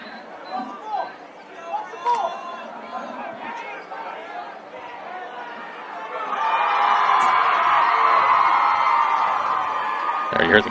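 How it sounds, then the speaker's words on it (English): A football crowd at Dutchmeyer Field chatters, then rises into a louder sustained cheer midway, with whoops and shouts over the murmur. "You hear the crowd here at Dutchmeyer Field."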